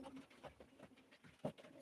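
Pigeons coo softly at a live pigeon auction, low murmuring calls with one slightly stronger coo near the end, faint and close amid quiet background noise.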